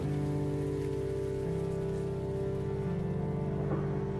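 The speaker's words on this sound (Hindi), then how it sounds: "बारिश में तो गजब का शोर है, पर खिड़कियों से टपकती बूंदों के साथ" Rain falls steadily and evenly, a constant patter blended with a low, sustained humming tone throughout.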